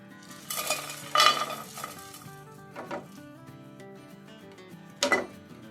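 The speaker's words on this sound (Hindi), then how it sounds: "तो अब ये फ्राई पैन यहाँ पे रखे और सारे मसाले इसमें डाल देंगे।" Whole cumin, black cardamom and red chillies dry-roasting in a frying pan, with a few close metallic scrapes and clatters of spices and utensil spaced apart over a quiet background and no speech.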